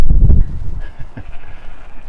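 Young lambs bleat in a garden on a sheep farm, a few short calls rising over a loud rumbling start, then scattered quieter bleats with light wind noise.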